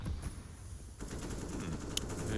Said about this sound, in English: Axile going to be drawn here by the gunfire of Apex.